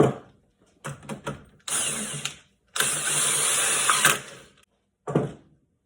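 Ratchet wrench cranking on a coilover for an 1983 Mitsubishi Starion, giving short clicking bursts and then longer steady ratcheting runs, close up and fairly loud with brief gaps between strokes.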